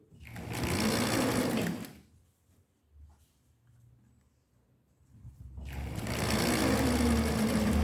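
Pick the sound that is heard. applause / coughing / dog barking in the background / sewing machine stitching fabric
sewing machine stitching fabric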